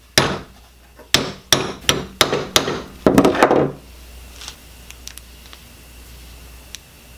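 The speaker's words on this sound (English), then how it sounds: "So I'm just going to use my vise to hold it and just hammer." A carriage bolt driven into a wooden dowel spool clamped in a vise takes a series of sharp, loud hammer blows, about ten in a steady rhythm, then falls to quiet with a few faint taps.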